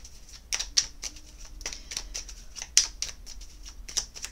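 Oracle cards are shuffled and drawn for a reading, giving soft, close papery flicks and snaps that come in short irregular bursts over a quiet room, with no talk.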